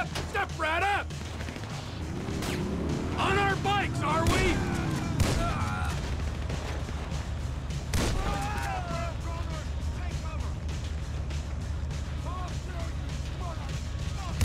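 Shotgun blasts in GTA V boom out in a rapid, repeated volley over continuous game noise, with a person talking excitedly through the first several seconds.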